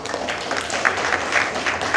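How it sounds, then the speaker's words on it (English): Brief, moderate round of audience applause at a Clayton County district town hall meeting, a short burst of scattered clapping. "that deserves a round of applause"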